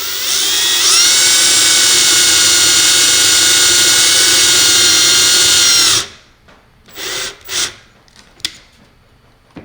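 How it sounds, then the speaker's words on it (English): A power drill whines loudly and steadily for about six seconds while drilling to mount an explosion-proof LED light, then stops, followed by a few short, quieter mechanical bursts and clicks. "Start your drilling."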